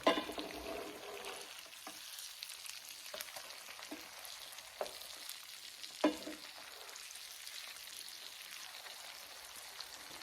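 Flounder fillets fry in a Ninja Foodi Neverstick pan on a Cusimax hot plate, giving a steady hissing sizzle with occasional clinks and scrapes as the fish is turned; close and moderately quiet, no talk.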